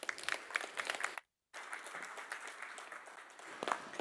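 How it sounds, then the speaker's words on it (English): Audience applause welcoming speaker Silvija Seres at a talk on protecting creators' work from generative AI: steady clapping from a room full of people, briefly cutting to silence before resuming, with a few sharper nearby claps. "Please, warm applause to Silvija Seres."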